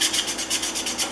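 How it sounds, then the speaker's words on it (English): A sanding stick rubs inside the throat of a hand plane, producing a steady, close, rhythmic rasping scrape with regular strokes about every tenth of a second, heard alone. "I can take my sanding stick down inside the throat"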